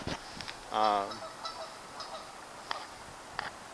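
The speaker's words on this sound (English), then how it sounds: "There's some geese over there." Geese honking in the distance outdoors beside a trail with trees, a loud harmonic burst of calls near the start followed by a few sparser, fainter honks.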